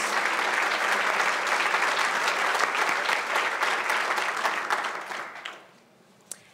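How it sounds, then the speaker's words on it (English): Audience applauds award winners at a youth award ceremony, loud sustained clapping from a crowd that thins out and fades to near silence, ending with one last sharp clap. "Please join us in a round of applause for all of our winners."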